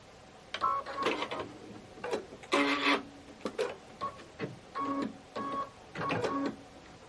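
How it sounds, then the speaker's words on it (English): An embroidery machine stitches a small star appliqué for a Kimberbell Cup of Cheer project, giving a run of short, uneven mechanical bursts with brief pauses between them, fairly close and alone. "we'll stitch our little star over it"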